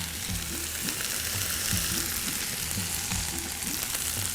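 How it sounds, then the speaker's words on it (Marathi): Potatoes with chili flakes, mixed herbs, lemon juice, mint and coriander sizzle and fry steadily in a pan, a continuous close crackle with occasional stirring scrapes and no talk. "पुन्हा आपण परतून घेऊया हे आता हे चांगले फ्राय झाले पाहिजे"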